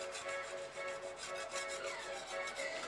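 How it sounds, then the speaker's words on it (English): A hand scraper rasps steadily across a cylinder head gasket surface, clearing off silicone that was smeared on the head gasket; continuous close scratchy rubbing with no pauses and no talking. "So I just use a scraper."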